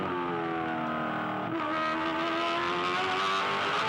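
A 2008 V8 Supercar at the Bathurst 1000, driven by Greg Murphy, holds a steady, loud engine note on careful throttle, with a brief shift in pitch partway through and a continuous close roar throughout.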